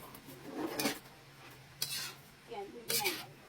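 Vegetables stirred in a pot of miki lucban noodles, with three short scraping, rubbing bursts of a utensil against the pot at a steady pace and quiet kitchen noise in between.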